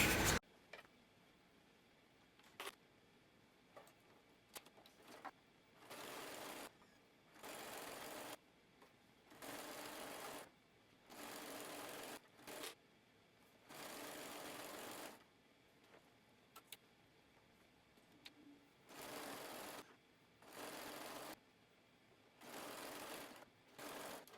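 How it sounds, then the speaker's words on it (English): A sewing machine runs a stretch stitch on fabric in repeated bursts of rapid, even whirring and clatter, separated by short quiet pauses, close and clear with no talking. "I'm going to use a stretch stitch, but you can certainly use a serger"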